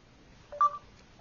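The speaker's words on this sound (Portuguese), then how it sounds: "Você pode também pedir para discar com comando de voz." A short run of phone dialing tones on a Galaxy S3 running Android 4.1 Jelly Bean, triggered by voice-command dialing: a few clean beeps in quick succession, fairly faint, against a quiet background.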